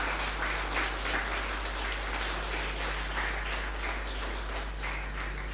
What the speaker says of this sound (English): Let us give applause to all the teachers.